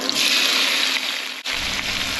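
Cold tap water running in a steady hissing stream over drained canned artichoke hearts in a colander, loud and close, with a brief break near the end before the flow resumes.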